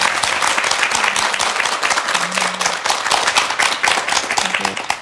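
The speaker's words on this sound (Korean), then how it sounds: "일단 우리 두 분께 용기 잃지 마시라고 박수 한번 보내주시겠습니까?" A Korean TV studio audience applauds steadily and loudly for several seconds, dense clapping filling the room with a brief low hum underneath.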